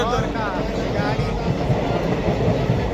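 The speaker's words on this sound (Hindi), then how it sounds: "महाराजा एक्सप्रेस जा रही है यार" The Maharaja Express luxury train rolls past in a loud, continuous rumble with rail clatter and a brief squeal of wheels, heard close by.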